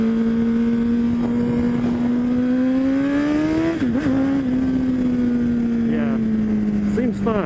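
Honda CBR1000RR sport motorcycle accelerating hard on a road, a loud close engine tone climbing steadily in pitch for several seconds, dipping briefly at a gear change, then holding high under wind noise.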